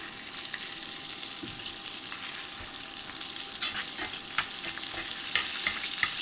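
A pork steak fries in a skillet on an induction burner, giving a steady close sizzle and crackle with occasional louder pops and spatters toward the end, no voices.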